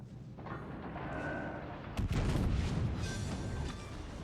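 Main battery guns of the French battleship Dunkerque fire in World of Warships Legends, a heavy booming salvo landing midway through, rumbling and rolling on under a steady low background of sea and engine noise.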